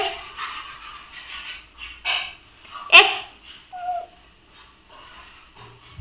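A dog gives a few short barks and whimpers close by, scattered irregularly with quiet gaps between them, and no talk.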